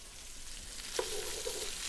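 Vegetables and tomato paste frying in a pan while braising pork cheeks, a steady close sizzle with a brief stirring scrape partway through, no talking.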